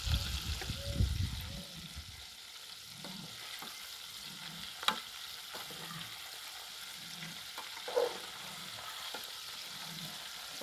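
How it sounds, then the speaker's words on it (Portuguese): Fish balls fry in a pan on a stove, a continuous soft sizzle and bubbling with occasional stirring clatter, a few faint knocks, and brief talk near the start. "enquanto tá fritando ali a última remessa do peixe"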